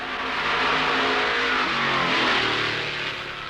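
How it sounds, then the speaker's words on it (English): Fireball Roberts' Ford stock car at Darlington for the 1963 Southern 500, its engine revving loud and close with a broad, rough roar that swells and shifts pitch as it accelerates. "Fireball warms up his Ford, then cranks one on"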